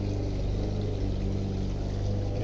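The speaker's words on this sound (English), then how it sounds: "As I fill them with tap water," Tap water pours steadily into fish tanks with a full, continuous gushing roar, close and unbroken throughout.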